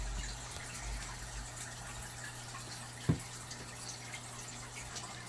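Water trickles through plastic tubing siphoned from a fish tank, a faint, steady flow with a soft gurgle and one brief louder splash or knock partway through.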